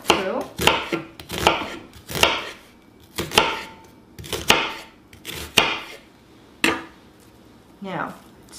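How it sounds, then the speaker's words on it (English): An onion being cut with a sharp knife on a board, about a dozen crisp, distinct chopping thuds in an uneven rhythm, close and clear with quiet gaps between strokes. "And you've got a nice sharp knife. And you're going to cut through."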